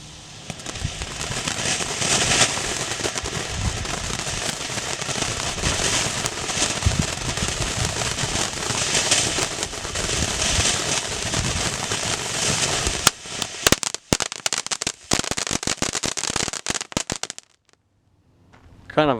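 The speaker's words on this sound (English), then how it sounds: "next up we got World Class Cone number 3 by World Class or Boomer Fireworks" World Class Cone No. 3 from Boomer Fireworks, a fountain cone, sprays a loud, dense, continuous hiss of crackling for about thirteen seconds, then breaks into sparse popping bursts of a crackle finale before dying away to quiet.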